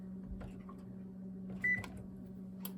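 A kitchen oven running with a steady low electrical hum, one short bright beep in the middle and a few soft clicks and knocks close by.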